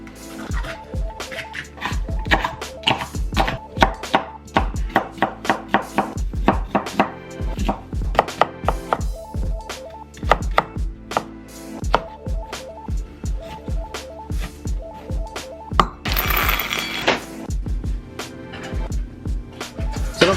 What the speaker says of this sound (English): All right, so next thing I'm gonna do is chop all these up